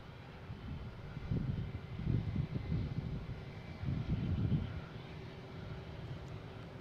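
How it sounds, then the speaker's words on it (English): An Aer Lingus Airbus A330-300 from Dublin arriving at Boston Logan, a faint, distant low jet rumble that swells in two waves over light outdoor wind noise. "we have Aer Lingus coming in from Dublin, an A330-300"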